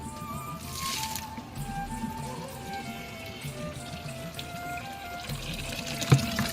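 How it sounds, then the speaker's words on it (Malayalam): Water splashing from a watering container onto potted plants in a terrace garden, a wet pouring and trickling sound that continues under faint background noise. "ഒരു കയ്യിൽ ക്യാമറ, ഒരു കയ്യിൽ വെള്ളം ഒഴിക്കുകയാണ്."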